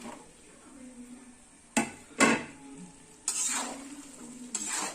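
Mango pieces for a quick pickle hit hot oil over a low flame, giving a few short bursts of sizzle and stirring scrapes, then a longer crackle against a quiet background.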